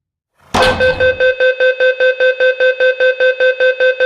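A steady, rapid electronic beeping tone from a metro train's door-closing warning in Minecraft repeats about four times per second, loud and close, starting with a brief burst of noise and continuing alone without talk.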